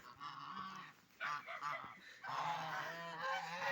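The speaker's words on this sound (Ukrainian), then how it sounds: "Ой, і гуси злякалися." Startled geese honk in loud, repeated nasal calls, several birds overlapping in bursts with short pauses, close by and with no talking.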